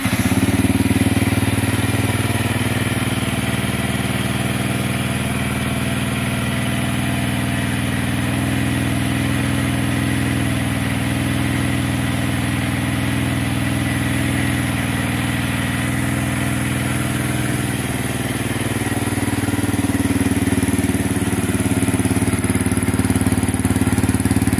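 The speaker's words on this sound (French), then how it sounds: "Le bruit du pot, je vous la faire longue" A slightly warm Yamaha XSR 125 motorcycle with an aftermarket exhaust idles steadily, a loud, continuous mid-pitched drone heard close to the pipe, with a small dip and return midway and no voices.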